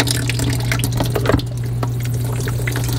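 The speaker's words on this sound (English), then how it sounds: "It's leaking back there." Water spills and trickles steadily from leaking plumbing at the back of an Airstream RV, with a constant low hum underneath and a few sharper splashes midway.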